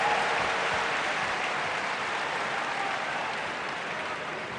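A tennis crowd in Macao applauds during the Pete Sampras versus Roger Federer match, a dense, sustained clapping roar that fades gradually, with no voices over it.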